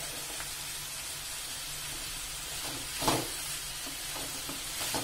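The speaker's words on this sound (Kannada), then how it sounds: "ಇದು ಚೆನ್ನಾಗಿ ಫ್ರೈ ಆಗಬೇಕು" Elephant foot yam palya frying in a pan, a continuous soft hissing sizzle with occasional light scrapes and one louder clatter midway, steady and close, with no voices.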